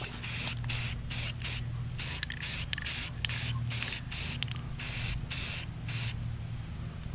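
Spray can painting a vintage minibike in repeated short bursts, close hissing sprays separated by brief pauses over a low steady background hum.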